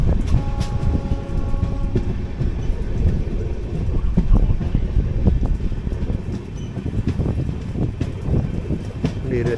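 Steady rumbling and rattling of the 22476 Coimbatore - Hisar AC Express running along the track through a crossing, with clicking wheel beats, wind noise and a brief tonal squeal near the start.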